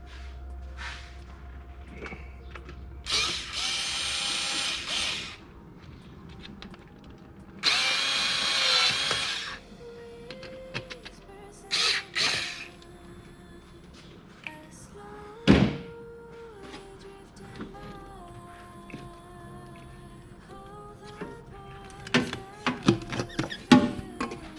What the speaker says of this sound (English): I'm going to be lazy and use a little cordless screwdriver.